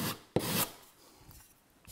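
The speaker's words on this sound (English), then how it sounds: "you just take your knife and you just scrape that" A filling knife scrapes dried filler off a wall patch in a couple of short, raspy strokes, close up, with quiet gaps between them.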